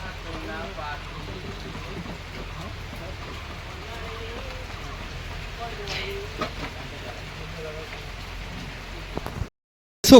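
Steady torrential rain patters and hisses throughout, with voices talking under it before a sudden drop to silence near the end.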